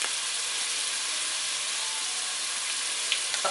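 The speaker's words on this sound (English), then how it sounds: "add my garlic in and saute it for about a minute" Garlic sautéing in a hot pan gives a steady, loud sizzling hiss that runs unbroken throughout, with a few faint pops near the end and no voices.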